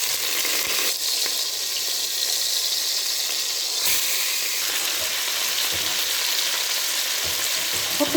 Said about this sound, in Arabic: احط كل التتبيله بقى اللي انا كنت عاملاها قدامكم، نسيبها تتشوح بقى قيمه 5 دقايق كده